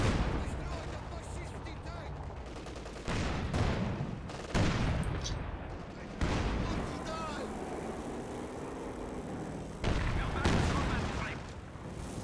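HE shells from an artillery barrage in a real-time strategy game hit infantry as repeated booming blasts spaced a few seconds apart, under continuous energetic commentary from casters.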